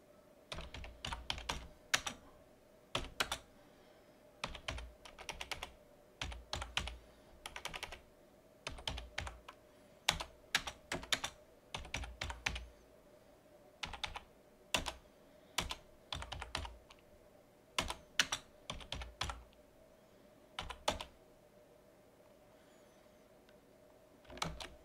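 Rapid bursts of clicking keystrokes on a computer keyboard while a Python function is typed, close and distinct, coming in irregular clusters with short pauses between them and no talking.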